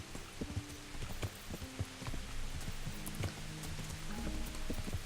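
Horse hooves clip-clop in a steady rhythm in Kingdom Come: Deliverance, a strong horse travelling at a sustained pace, the footfalls close and clear over a low background bed.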